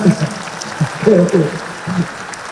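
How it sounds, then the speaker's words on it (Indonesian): Applause for Mas Gibran from a gathered group, a clapping wash that rises and falls while people talk over it. "Tepuk tangan dulu buat Mas Gibran."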